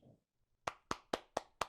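Five sharp, evenly spaced hand claps ring out close and loud after a brief murmur and near-silence, more like a small group clapping in rhythm than a full ovation, at a virtual reality education and training event.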